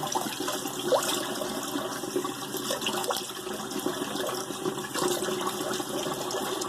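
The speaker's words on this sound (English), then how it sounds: "let's do a cold water rinse." Running water splashes steadily from a tap during a cold water face rinse after shaving, a continuous rushing stream with occasional louder splashes, close and with no talking.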